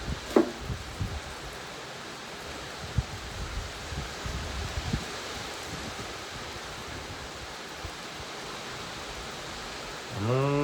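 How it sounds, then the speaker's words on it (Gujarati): Unseasonal heavy rain falling outdoors over tobacco fields, a steady broad wash of rainfall with a few thuds and rustles, no talk over it. "વરસાદ ચાલુ થઈ ગયો"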